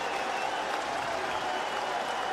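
A baseball crowd of more than 17,000 rises and cheers as the 27th batter steps in with a perfect game on the line, giving a steady, dense wash of distant applause and crowd noise.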